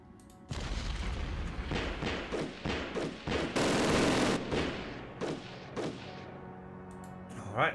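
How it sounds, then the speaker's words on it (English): Artillery barrage in a WWII Ardennes offensive strategy game: a run of heavy booming blasts in quick succession, a dense roaring cluster in the middle, then scattered fading thuds, with brief talk over it. "Ooh, artillery."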